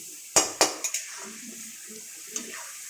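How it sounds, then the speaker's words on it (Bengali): Gobindo Bhog rice khichuri stirred in a metal pot, two sharp spoon knocks on the rim followed by lighter clinks and a soft scraping stir, close, with faint sizzling underneath and no talking. "এটা ভালো করে কষে নেব।"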